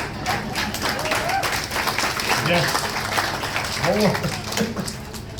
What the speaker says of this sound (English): More pity applause.